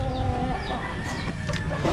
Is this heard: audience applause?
no